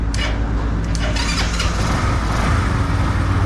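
A freshly cleaned motorcycle engine, washed down with petrol, cranks with a few sharp bursts and catches into a steady, close idle that runs evenly to the end.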